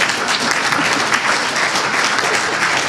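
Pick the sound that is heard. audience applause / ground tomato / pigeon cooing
audience applause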